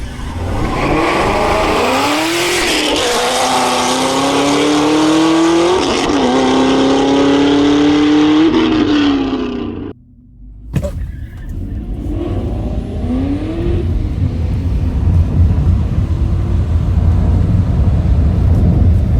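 A Camaro and a Tesla launch off a drag strip from a green light, with a loud engine revving up through several gear shifts before cutting out abruptly, then a further engine passing at a distance.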